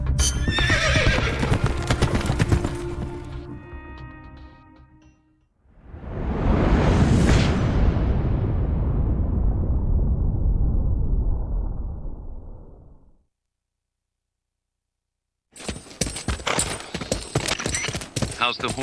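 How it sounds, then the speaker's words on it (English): Horse in Metal Gear Solid: Peace Walker, with clip-clopping hooves and a loud neigh, alongside whooshing game effects, broken by a stretch of near silence before more hoofbeats resume. "How's the horse doing?"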